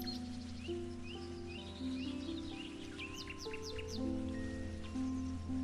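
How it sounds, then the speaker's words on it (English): Birds chirp and trill faintly in a willow tree over a soft, steady background of sustained tones, with a few quick rising calls clustered together. "You can also hear birds singing in the willow tree."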